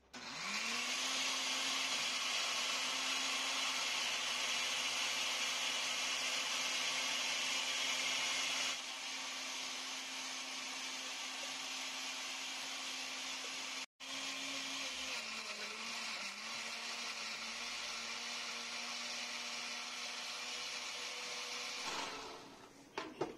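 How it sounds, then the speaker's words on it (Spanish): A blender purees red chile sauce for pozole with a loud, steady whir that holds, drops to a slightly lower pitch partway, cuts out for a moment, then runs again before stopping. "Vamos a licuar."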